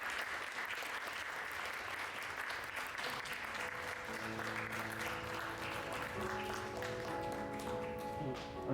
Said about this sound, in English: can we have another round of applause for our storytellers?